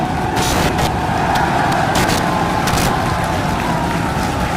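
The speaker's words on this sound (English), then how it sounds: "We have liftoff." A SpaceX Starship rocket lifts off with a dense, continuous, heavy roar that stays steady and loud from start to finish, with rough crackling texture layered through it.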